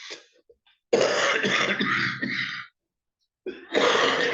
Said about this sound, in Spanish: empezamos con la tos.